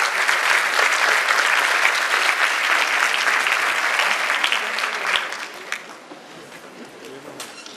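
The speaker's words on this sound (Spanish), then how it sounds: "le damos un gran aplauso de parte de la comunidad de la Universidad Agraria por su generosidad" A university audience claps loudly and steadily for a speaker at an agrarian university event, a dense wash of applause that thins out and fades after about five seconds.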